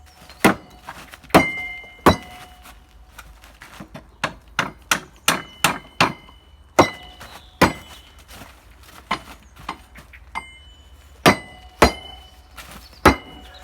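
Repeated hammer blows knocking timber down onto metal base shoes ring out with a metallic clang, irregular in pace, some heavy and some lighter, close and loud against a quiet background.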